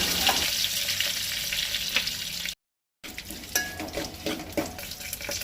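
Fenugreek seeds and curry leaves sizzle in hot oil for a tempering in Goan mango sasav, a dense steady crackle broken by a brief silent gap, then resuming with sharper spits and pops, fairly close.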